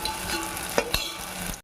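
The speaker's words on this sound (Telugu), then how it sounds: "బాగా ఫ్రై చేసుకుందాం." Paneer pieces frying in a pan with steady sizzling, broken by a couple of sharp spatula scrapes and knocks as they are stirred, close and moderately loud.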